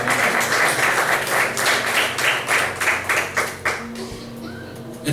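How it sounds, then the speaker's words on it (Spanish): Congregation applauding during a church New Year's sermon, a dense steady wash of clapping that thins and fades toward the end. "Denle un aplauso al Señor, amén."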